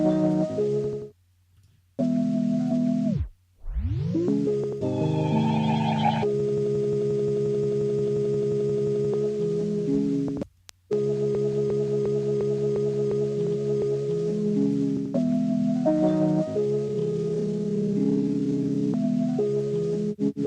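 A hip-hop sample runs through a Glitch 2 plugin effect, producing chopped, stuttering tones with abrupt cutouts, pitch sweeps and repeating synthetic buzzes, loud and alone.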